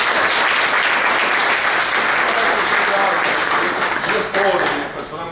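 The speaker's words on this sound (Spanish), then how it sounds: "Un fuerte aplauso." A large audience breaks into loud, sustained applause at a mental health sector swearing-in ceremony, dense steady clapping that holds strong throughout before easing slightly at the end.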